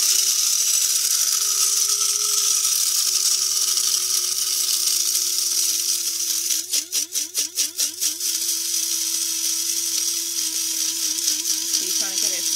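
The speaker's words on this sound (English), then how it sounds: "I'm using an electric grinder." An electric coffee grinder grinds coffee beans in a steady, loud, continuous whir that runs throughout, with a brief rattling stutter partway through, while people talk over it.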